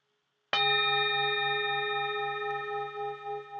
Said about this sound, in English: as the next gong chimes